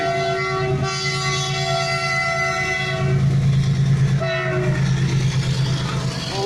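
A train rumbles loudly past a railway level crossing, its horn blaring in long sustained blasts over the steady clatter of wagons close by.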